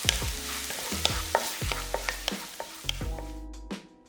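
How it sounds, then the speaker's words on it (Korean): Onion sautés in a spoonful of butter in a wok-style pan over low heat, a close sizzle broken by repeated scraping stir strokes and clinks at an uneven rhythm, with no talk. "약불에 궁중팬 올려 버터 크게 1스푼 넣고 볶아주고 양파가 황금색이 돌면"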